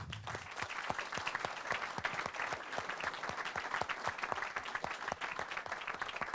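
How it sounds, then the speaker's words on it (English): Warm applause from an audience at a town hall in Somersworth, New Hampshire, with steady, dense clapping and individual sharp claps standing out near the mic, continuing evenly throughout. "please give a nice big round of applause to the former mayor of Somersworth"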